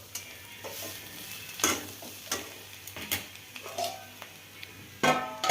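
Bharangi greens with peanut powder stirred in a hot pan, soft sizzling under scraping spatula strokes and a few sharp clinks against the pan, close and continuous.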